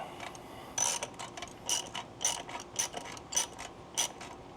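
A ratchet fitted with a 24 mm socket clicks as it cracks loose the oil filter cap on a Jeep JK with the 3.6L engine, giving six or seven evenly spaced bursts of close pawl clatter with quiet gaps between them.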